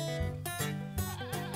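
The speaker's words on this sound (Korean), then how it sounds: "염소가 막 운다." A goat bleats several times in quick, wavering cries, close and fairly loud, with no talk over it.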